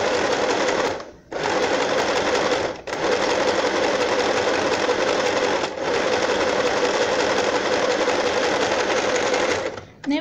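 A sewing machine stitches a seam on legging fabric, running loud and close in long continuous whirring bursts separated by a few brief pauses.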